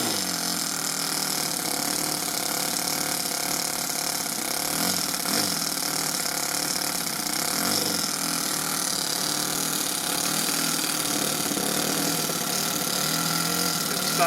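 A Toyan FS-S100G small four-stroke model engine fitted in an RC car runs steadily at a constant buzzing idle, loud and close, without pauses.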